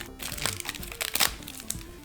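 A plastic package of gamer keycaps for a Bloody B845R gaming keyboard is opened, giving close, irregular crinkling and crackling bursts of handled plastic, with no talking.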